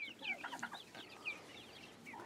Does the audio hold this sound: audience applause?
no